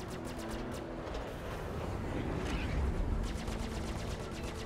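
Rapid automatic gunfire rattles in Star Citizen, bursts of fast repeating shots carried under a steady background rumble, moderately distant and fairly faint, with no talking over it.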